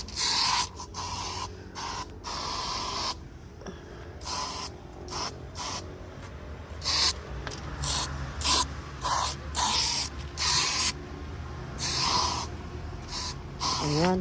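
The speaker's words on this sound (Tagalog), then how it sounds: "Nag-spray tayo, guys. Nag-spray tayo." A handheld sprayer mists damaged hibiscus plants in short, sharp hissing bursts, some quick and clipped, others held longer, close and loud over a quiet background.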